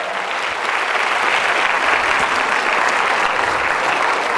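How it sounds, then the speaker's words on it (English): Steady, full audience applause at a stage hypnosis entertainment show, a dense even patter of many hands clapping throughout without pause. "Round of applause for these guys."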